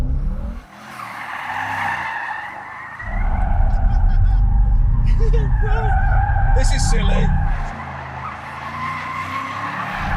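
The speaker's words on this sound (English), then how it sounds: "Does that mean this car will do skids?" Tires squealing loudly as a Bentley skids with its stability control fully off, long sustained screeching over engine roar, with someone talking over it.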